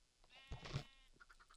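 A single quavering sheep bleat from the Minecraft video game, close and clear against silence, with a few soft clicks and a sharp noise at the end.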